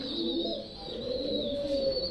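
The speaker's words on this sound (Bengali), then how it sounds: "দেখেন কবুতর অনেক, মাশাআল্লাহ সুস্থ সবল সব কবুতরগুলো।" Pigeons in a loft holding Teddy-type and other breeding birds, cooing steadily and close, a continuous soft layered murmur from many birds with no talking.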